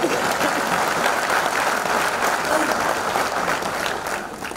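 A crowd that includes uniformed personnel claps at a CISF golden jubilee celebration, a loud, sustained round of applause that holds steady and then eases slightly at the end.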